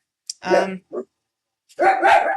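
Several dogs bark close and loud: a short yip, a burst of barking, one brief bark, a pause, then another run of barking.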